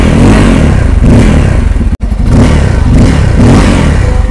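A 2024 Bajaj Pulsar N250 motorcycle idles loudly and close up through its dual-barrel exhaust with a deep, throbbing rumble, briefly cutting out for an instant before resuming.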